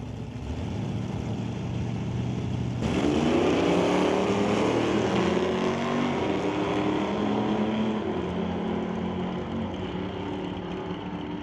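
Drag race cars at an NHRA Summit ET bracket race, an AMC Pacer and a black 1983 Cutlass, running as loud continuous engine roar that surges sharply after a few seconds and holds steady, with a broad wash of exhaust noise.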